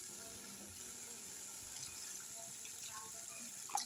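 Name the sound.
pouring water into the fish curry pan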